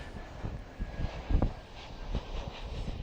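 Low engine rumble of a Jetstar Airbus A321neo airliner landing at Adelaide Airport, a distant steady roar with a few soft thumps, heard outdoors with no talk.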